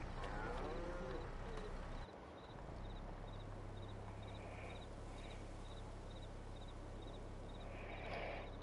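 Dairy cows on a farm moo repeatedly in a steady, close chorus, with a brief dip partway through and a constant low hum of farm surroundings underneath.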